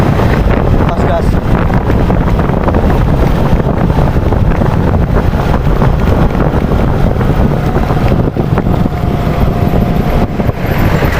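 A Yamaha Mio Sporty motorcycle with a faulty carburetor, ridden fast at full throttle: a loud, continuous roar of engine and wind buffeting that stays steady throughout.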